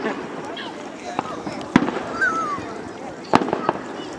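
Fourth of July fireworks over Lakewood, New York, popping and cracking at a distance with a couple of sharper bangs and a faint whistle, under a steady murmur of a crowd and nearby voices talking.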